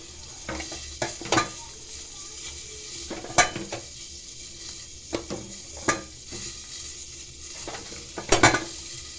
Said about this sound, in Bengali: দেখো ওর মধ্যে কাঁচা লঙ্কা, কড়াইশুঁটি, বিনস, গাজর, আলু সব সবজি দিয়ে দিয়েছি।